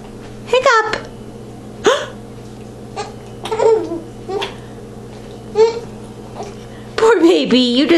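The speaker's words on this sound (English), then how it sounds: "Hiccup." A baby hiccups in short, sharp bursts, several spread across the span, mixed with babbling and little laughing sounds, all close and clear.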